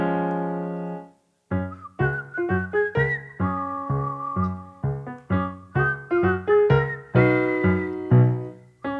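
Performers whistle a lilting tune during a stage show of the musical Camelot. Bright, bouncy notes come in short phrases after a brief held tone and a pause, loud and close.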